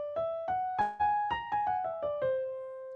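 Piano playing a whole-tone scale: six or seven clear single notes struck one after another in steady rhythm, rising then falling back, quiet and close, ending on a ringing note.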